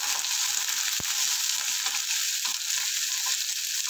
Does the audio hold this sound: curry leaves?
yes